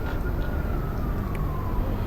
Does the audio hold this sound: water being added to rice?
no